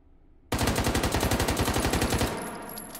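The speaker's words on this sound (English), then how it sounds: "This is also a machine pistol. So let's switch it to fully automatic." Machine pistol in the VR game Hot Dogs, Horseshoes & Hand Grenades firing fully automatic: a sudden, loud, rapid stream of evenly spaced shots for about two seconds, then a ringing tail, with no talk.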